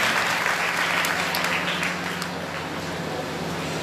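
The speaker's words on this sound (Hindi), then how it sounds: "एक बार जोरदार तालियों के साथ" An audience at a religious gathering claps steadily, a dense wash of applause that fades slightly toward the end, with no talk over it.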